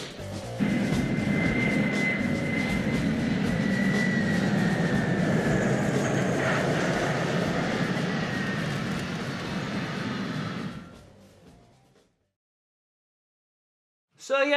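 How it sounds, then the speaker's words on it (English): Loud, continuous roar of aircraft engines under gunfire as the general's plane is shot down in Die Hard Trilogy, with a steady whine running throughout before the noise cuts off abruptly into silence near the end. "it's up to the skies to shoot down the general's plane"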